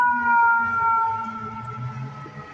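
An emergency vehicle siren wails over rumbling New York City street noise at night, its tone drifting down as the vehicle passes, loud at first and then easing slightly.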